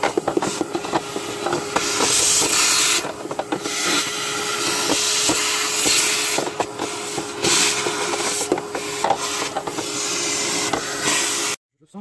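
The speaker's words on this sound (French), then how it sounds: "je vais passer l'aspirateur là-dedans" A steady, loud whooshing hiss of a vacuum cleaner running continuously up close, cutting off abruptly near the end.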